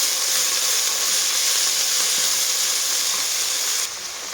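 Chopped spinach frying in a pan, a loud, steady broadband hiss of sizzling that continues evenly, then drops slightly near the end.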